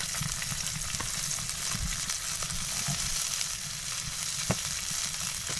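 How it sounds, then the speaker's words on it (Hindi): A steady, loud sizzle of chopped cabbage frying in hot oil in a kadhai fills the whole stretch, broad and hissing, with a few faint stirring knocks and no voices. "अब इसके अंदर डाल देते हैं 1 प्याली बंद गोभी है कटी हुई मेरे पास।"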